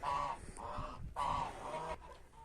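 Free-roaming farm poultry, geese among them, give a few close honking calls in two or three bursts, separated by short gaps of quieter yard noise.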